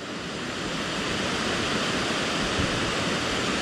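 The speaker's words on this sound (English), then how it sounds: "All right, so there's Indian Creek Falls." Indian Creek Falls on a backpacking trail in Great Smoky Mountains National Park, a steady, full rushing roar of falling water heard alone from a moderate distance.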